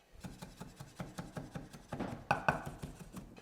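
A knife roughly chopping small garlic cloves on a board, quiet, steady tapping strokes at a quick even rhythm, getting slightly louder toward the end, with no talking.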